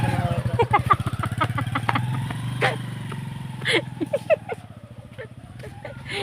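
A motorcycle engine idles close by with a rapid, pulsing putter, and people talk over it the whole time.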